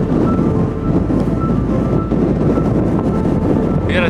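Strong, steady wind roars and buffets continuously across open plains in Iceland while cycling, loud and close with no pauses.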